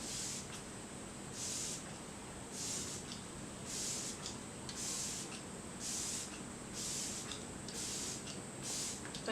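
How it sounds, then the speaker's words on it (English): Repeated short hissing bursts of a fine face setting spray, about ten evenly spaced puffs over a steady background hiss, close to the microphone. "Now I'm going to spray my face."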